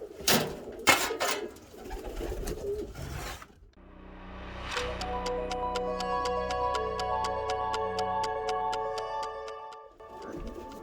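Pigeons coo in a pigeon loft, a steady low throaty murmur in the second half, following several seconds of scraping and rubbing as the loft is cleaned.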